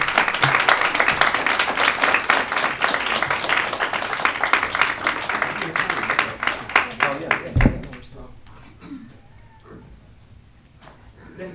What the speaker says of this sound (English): Let's give Wayne and Chris another round of applause